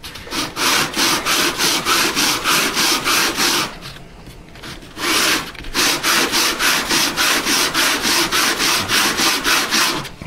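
An 80 grit sanding block rubs back and forth over a custom electric guitar's wooden body in quick, even strokes, a loud close rasping rhythm that pauses for about a second midway before resuming at the same pace.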